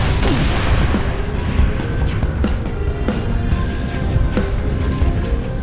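Heavy artillery fire and explosions in Halo: Reach, with repeated booming impacts every second or so over a constant dense battle rumble, loud and close.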